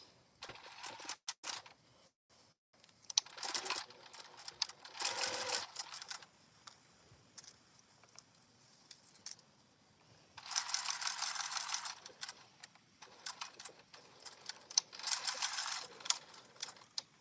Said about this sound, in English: So we're going to sew this together at a 1/4 inch seam allowance.